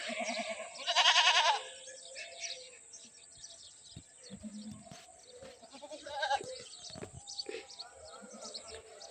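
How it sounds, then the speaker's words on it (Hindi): Goats nursing their kids make a few scattered bleats amid rustling and small chirps, with a louder burst early on; sounds are fairly faint and close, and a person's voice comes in at times. "2 बकरियां हैं, दोनों अपने बच्चों को दूध पिला रही हैं"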